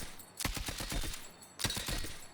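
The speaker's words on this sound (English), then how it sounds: "So this is how it shoots while standing still." A KDS gun fires in Battlefield 6 while the player stands still, two short bursts of rapid, evenly spaced automatic shots with a pause between them, fairly faint and with no talk.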